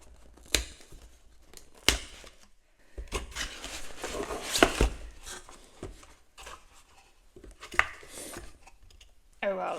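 Packaging of a May Paper Co planner being opened, with close crinkling, tearing and scattered sharp clicks and rustles in irregular bursts, fairly quiet overall.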